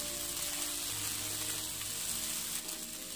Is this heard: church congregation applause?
no